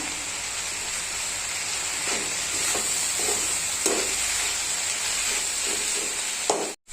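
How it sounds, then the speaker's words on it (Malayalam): Drumstick leaves for a thoran are stirred with crushed spice paste in a pan, a steady soft sizzle broken by a few scraping strokes of the spoon, close by and without speech. "ഇതെല്ലാം കൂടെ നന്നായിട്ടൊന്ന് മിക്സ് ചെയ്ത് കൊടുക്കുക"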